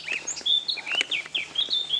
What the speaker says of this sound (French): Ah, des petits oiseaux, ça change